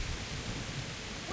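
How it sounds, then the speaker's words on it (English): Steady, dense hiss of heavy rain in Kingdom Come: Deliverance, fairly quiet and constant, with a low rumble underneath and no voices. "What a noise that rain is making."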